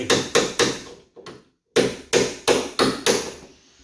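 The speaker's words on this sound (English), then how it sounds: "it's going to let me hammer that in, I hope, without breaking it" A hammer drives a shackle onto a bi-fold door part, striking in a run of loud, sharp blows, three quick hits, a short pause with lighter taps, then five more evenly spaced strikes, close up.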